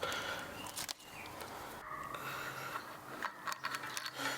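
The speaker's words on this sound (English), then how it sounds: "I'm going to remove all 6 bolts to get this plastic washer off." Bolts are worked loose from an e-bike hub motor wheel with a ratchet, giving quick clicking pawl sounds and small metallic rattles against faint background noise.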